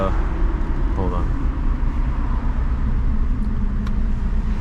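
A Subaru WRX STI drives with a steady engine and road rumble heard from inside the cabin, loud and continuous, with people talking over it.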